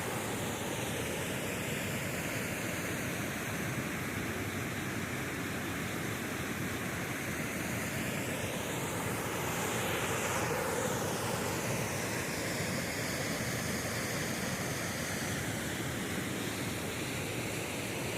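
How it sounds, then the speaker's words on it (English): A waterfall pours into a big pool at Donkey Creek, a constant, dense rushing roar that holds evenly throughout with no other sounds. "Just waterfall after waterfall."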